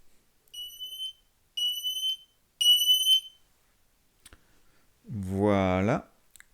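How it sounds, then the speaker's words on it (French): An Aqara Smoke Detector's built-in 85-decibel siren sounds during a self-test, giving three loud, shrill electronic beeps at an even rhythm with short gaps between them, followed by someone speaking. "À l'intérieur du Aqara Smoke Detector, on retrouve une sirène intégrée d'une puissance de 85 décibels."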